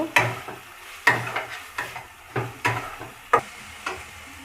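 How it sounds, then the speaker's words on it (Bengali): Shrimp sautéing in a reddish spice masala, heard as a soft sizzle broken by a series of distinct scraping stirs of a spatula against the pan, roughly one every half second, close and clear. "এখন চিংড়ি মাছগুলো ঢেলে দিয়ে আর একটু কষিয়ে নেব"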